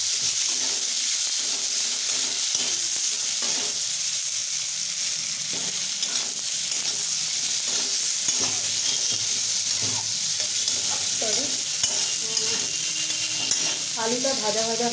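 Boiled potatoes fry with cumin and salt in a pan, giving a steady, close sizzling hiss with a few light stirring scrapes and no talking.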